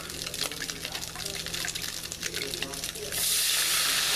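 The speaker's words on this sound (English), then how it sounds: "I'm going to pour in a cup of chicken stock" Chicken stock pours and sizzles in a hot skillet, a steady hissing splash that grows brighter and louder in the final second.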